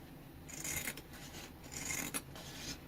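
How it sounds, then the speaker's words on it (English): Scissors cutting through several layers of denim jeans: two close, quiet rasping snips with brief pauses, alone without talk. "We're just going to cut through all the layers."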